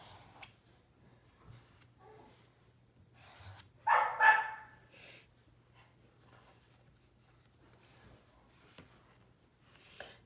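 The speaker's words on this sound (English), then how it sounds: "That puppy just so badly wants to play" A puppy barks a few times in a short, lively burst, fairly close and loud, standing out against a quiet room with a low steady hum and some soft handling noise.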